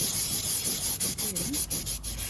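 Steady back-and-forth scrubbing on a mosaic garden gnome's nose to clear off grease and grime, a close, rhythmic rasping rub with about a dozen strokes.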